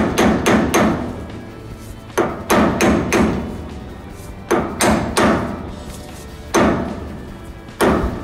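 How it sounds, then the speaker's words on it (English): Brass hammer driving a farm equipment wheel onto a baler axle, struck in quick bursts of three or four sharp, loud blows separated by short pauses, close to the microphone. "Brought a brass hammer, so hopefully I don't smash it up too bad."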